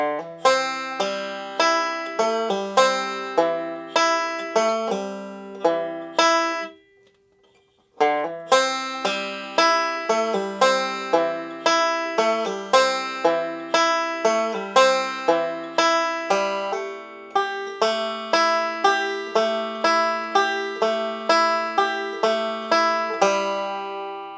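A banjo picks out a melodic line of a song at a slow, deliberate pace, bright plucked notes ringing one after another, with a brief pause near the start.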